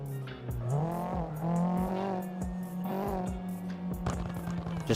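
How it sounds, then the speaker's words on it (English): A drift car at a drift series competition revs loudly and close by, the driver feathering the throttle so the engine note rises and dips in quick pulses as one continuous roar. "Just feathering that throttle, getting all the noise out of that car that he can."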